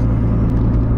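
A lowered car rolling along, its muffler droning and its cambered tires giving off a low, steady road rumble, close and constant with faint hiss above.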